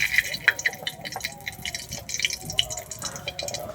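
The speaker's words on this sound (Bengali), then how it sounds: "মাছ ভাজার তেলের মধ্যে দিয়ে দিচ্ছি গোটা গরম মশলা" Whole garam masala spices crackle in hot oil left from frying fish, with sharp irregular pops and sputters over a low sizzle, close and fairly quiet.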